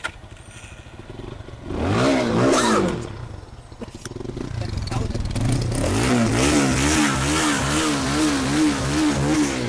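A used Lifan KPT motorcycle, about 20,000 km on it, running nearby with a steady throbbing engine that swells with a rev early, then settles into a rhythmic idle; a person talks over it.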